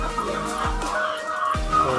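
Chickens in a poultry laying house cluck over a steady hum of background noise, with a few sharper calls rising over the flock's continuous chatter.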